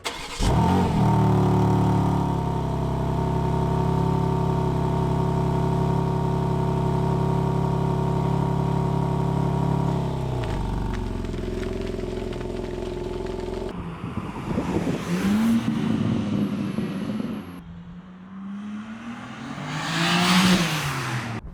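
A BMW M4 Competition coupé runs with a steady loud engine drone that later drops away, followed by sharp revving surges that rise and fall near the end, with no talking.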